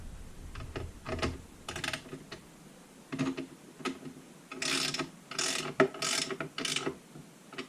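Nuts spun and tightened onto threaded rods on a wooden camera arm, giving a run of close, quick ratcheting clicks and metallic ticks in irregular bursts with short pauses, no voices.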